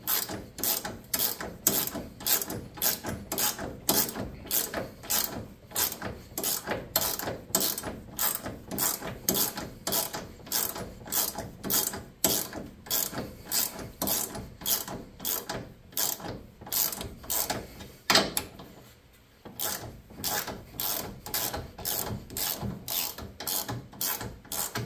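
A ratchet tightens the radiator mounts on a Chevy Suburban being fitted for an LS swap, giving a long run of steady, rapid clicking strokes, close and loud, with a brief pause near the end before the clicking resumes.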